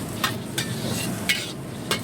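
Seafood stir-frying with spices for bakso, a steady close sizzle broken by four sharp, evenly spaced scrapes of a utensil against the pan.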